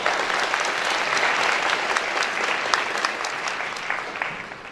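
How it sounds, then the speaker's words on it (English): Steady applause from a crowd at an award ceremony, dense clapping that carries on evenly throughout before thinning slightly near the end. "So let's give him a round of applause."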